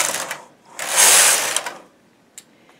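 A knitting machine carriage is pushed across the needle bed to knit rows for pile knitting, giving close, rattling mechanical ratchet-like bursts with a pause between passes, followed by small clicks.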